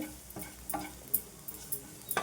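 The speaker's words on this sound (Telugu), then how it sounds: "మనం వేసిన జీలకర్ర మెంతులు ఇవన్నీ కూడా బాగా ఫ్రై అయ్యేటట్టు మనమైతే కలిపేసుకుందాం" Cumin seeds and fenugreek stirred as they fry in a pan, giving faint sizzling under a series of soft, irregular scrapes and taps of the spoon against the metal, with no voices.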